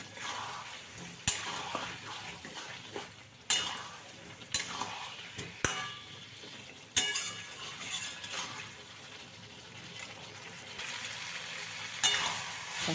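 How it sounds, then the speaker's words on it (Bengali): Fried potatoes being stirred back into a spiced masala in a pan for a vegetarian aloo dum with peas, giving a steady sizzle broken by several sharp spoon clinks and scrapes against the pan, heard close with no talk. "ভেজে রাখা আলুগুলো দিয়ে আবারও ভালো করে এর সাথে কষিয়ে নেব"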